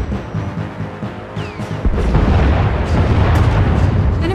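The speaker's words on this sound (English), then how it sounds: "Enemy is firing. Turbo lasers, missiles, and it looks like transport pods." Turbolaser and missile fire in the Star Wars: The Old Republic video game, a rumbling barrage of booming blasts and explosions that swells to a loud, continuous roar partway through.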